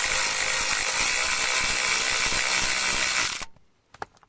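A ratchet with a 7mm socket loosens screws on the turn signal multifunction switch of a 2008 Chevrolet Cobalt, making a steady, dense buzzing ratchet sound for about three seconds before it stops, followed by a few faint clicks.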